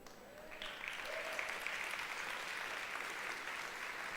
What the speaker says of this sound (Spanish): ¿Por qué aplaudiste?